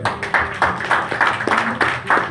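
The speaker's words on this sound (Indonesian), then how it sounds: "Tepuk tangan untuk SOP." Audience clapping in a room, a short burst of steady, fairly loud hand claps with no talking over it.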